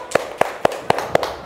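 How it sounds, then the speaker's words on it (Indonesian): A classroom applauds group 1 with five sharp, evenly spaced claps in unison, loud and close, with no talking. "kita beri tepuk tangan untuk kelompok 1"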